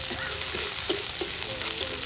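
Cumin and ginger paste for koi fish curry fry in hot oil, a steady close sizzle with a few soft stirring scrapes over about two seconds, and no one speaking.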